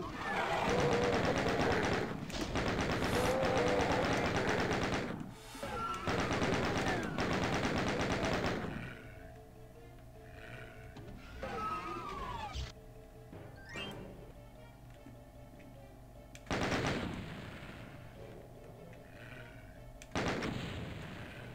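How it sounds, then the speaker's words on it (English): Rapid gunfire from the Doom video game as barrels are shot, dense loud bursts for several seconds, then quieter in-game ambience with a couple of isolated shots later. "I got plenty of ammo here, so I can blow up the barrels."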